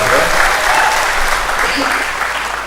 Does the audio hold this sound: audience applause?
yes